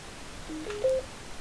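A Xiaomi Mini Bluetooth speaker switches on with a short, clear electronic chime, brief tones rising above a quiet background hiss.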